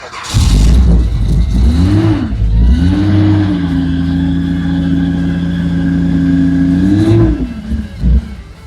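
A 1981 Datsun 280ZX engine revving after sitting for nine years, with a loud close burst, a rising rev and a held steady note for several seconds, then dropping back to a rough idle.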